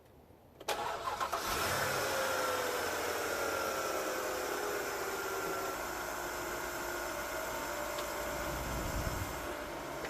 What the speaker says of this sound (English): now all we do is start her up and let her idle for 15 minutes